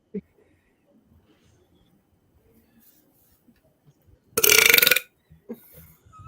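One loud, rough burp lasts about half a second, close to the listener, after a stretch of quiet murmuring. Faint voice sounds come before and after it.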